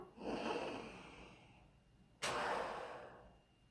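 A person takes two long, deep breaths in through the nose and mouth, each a close, airy rush. The second inhale starts with a sharp sniff, and the breaths come alone against a quiet background.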